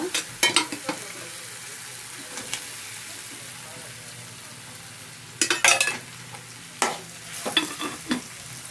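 Brinjal and raw mango curry frying in oil, Nellore style, with bursts of spatula scraping and stirring against the pan over a soft background sizzle, close by, separated by quieter pauses.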